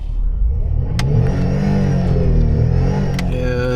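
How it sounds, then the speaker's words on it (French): A Peugeot 605 V6 engine revs hard while the broken-down car stays stationary, a loud steady roar with a couple of sharp clicks, no speech. "j'ai beau accélérer, embrayer, la voiture avance pas"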